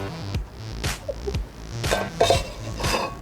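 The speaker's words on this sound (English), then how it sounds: "Gonna get the omelette out of the pan." A spatula scrapes and clinks against a pan as a Thai stuffed pork omelette is lifted out, giving several short metallic scrapes and taps close up, with no talking.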